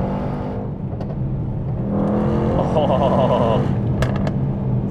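A Mercedes-AMG GT63S engine swells into a throaty rev midway through, rising over road noise from inside the moving car, while someone talks over it at the start.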